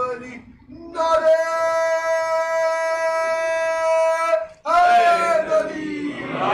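At a religious gathering celebrating the birth anniversary of Imam Muhammad Taqi, one loud sustained voice calls out a slogan, then after a brief pause a crowd roars back a loud, ringing response.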